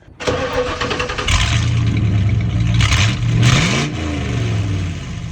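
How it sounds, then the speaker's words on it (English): A truck engine with totally straight-piped exhaust and no muffler starts, then revs up loudly in several bursts, its rough, open roar settling into a throaty idle between pulls. "we're gonna fire it up once just to hear what it sounds like, totally straight piped"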